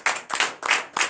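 Church congregation at a morning prayer service clapping in acclamation to Jesus, four quick claps in a steady rhythm, close and distinct.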